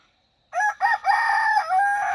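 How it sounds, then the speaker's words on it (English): A rooster in a farm pen crows loudly and close by, one drawn-out call lasting about a second and a half after a brief silence. "this pen has a different rooster in it now"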